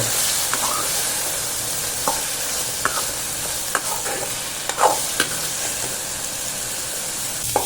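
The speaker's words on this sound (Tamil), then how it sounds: "பிரண்டையை நல்லா வதக்கி விட்டுக்கோங்க எண்ணெயில்" Adamant creeper (pirandai) sautés in oil, a steady soft sizzle broken by regular spatula scrapes and taps against the pan.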